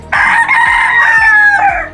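A rooster crows loud and close, one long full cock-a-doodle-doo sounding alone, at a gamecock breeder's farm.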